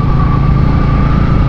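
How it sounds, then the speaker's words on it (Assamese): A motorcycle engine drones steadily and loudly while riding on a high mountain road in snowy terrain, a constant close hum with wind rush and no voices. "বাইক চলাই গৈ আছোঁ"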